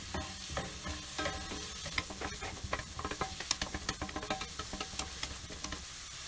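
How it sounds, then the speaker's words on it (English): Chopped carrot, beans and capsicum sauté over high heat in a pan for soup, giving a continuous close sizzle. Frequent stirring and scraping clicks run through it. "In goes the carrot, and then the beans and capsicum. Saute all this."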